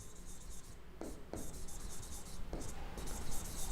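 Notes being written by hand, a close, soft scratching of pen or chalk with a few brief strokes and taps over a steady background hiss.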